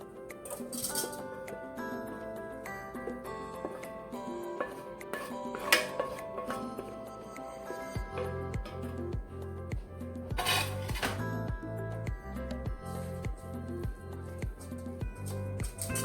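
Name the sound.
dishes and cutlery clinking while moving cooked spinach into a bowl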